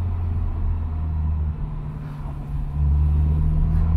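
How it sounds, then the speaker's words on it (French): A modern turbocharged car engine idles with a low, steady purr, holding a smooth hum throughout and swelling slightly louder toward the end, with no voices. "Et puis les voitures modernes, tu sais. Déjà, on l'entend un peu ronronner"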